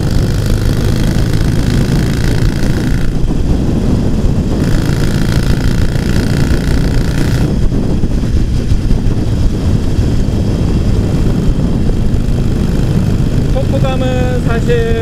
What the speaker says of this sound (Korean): 스로틀을 당겼을 때 엔진은 힘있게 RPM을 올려주면서 배기 튜닝도 했기 때문에 머플러에서 뿜어져 나오는 소리는 굉장히 듣기 좋아요